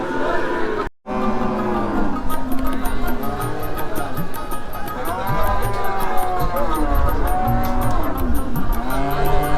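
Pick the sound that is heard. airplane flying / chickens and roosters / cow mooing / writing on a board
cow mooing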